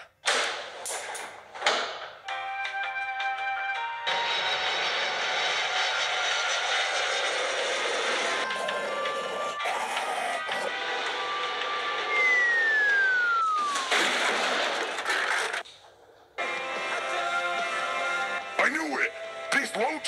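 A snowmobile engine drones in a racing video game, holding a steady, loud buzzing whine with shifting pitch for most of the stretch, then cutting out and returning in short bursts near the end.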